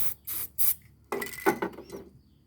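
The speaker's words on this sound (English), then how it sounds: "What you need to be doing is avoiding things like this as well. Spray grease." Aerosol spray grease hissing onto a motorcycle chain in short bursts, three quick sprays followed by louder rubbing and handling noises, close and fairly loud with no talk.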